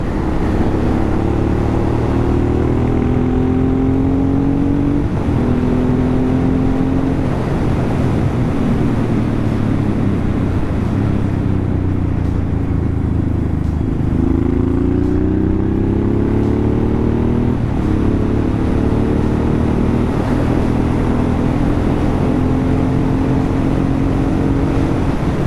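Honda Transalp converted to a supermoto, ridden on narrow country farm roads: a loud, steady engine drone rising and falling through gear changes and revs, with heavy wind rush throughout and no talking.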